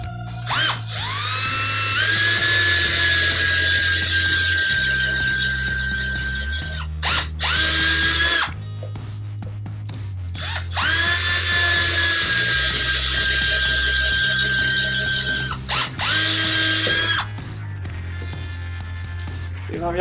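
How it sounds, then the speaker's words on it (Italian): A drill bores pocket holes in a board held in a Parkside pocket hole jig. Loud, close bursts of high whine ramp up and hold, then pause, repeating several times, with no talk. "andiamo a fissare il morsetto, lo stringiamo e pratichiamo i fori."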